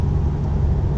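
A 1966 Volkswagen Karmann Ghia engine rumbles steadily from inside the car while driving, a close, low, even drone with no talk.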